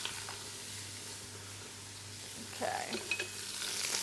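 Vegetables sizzling in a hot pan as broccoli, spinach and pea soup is cooked, quiet at first, then a louder burst of sizzling and stirring clatter near the end, with one brief spoken word.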